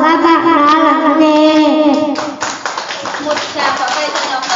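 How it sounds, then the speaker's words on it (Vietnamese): A first-grade classroom gives a group a round of applause, a dense burst of many small hands clapping that starts midway and continues steadily, following a child's singing or sustained voice. "Một tràng pháo tay cho nhóm tân thân nào."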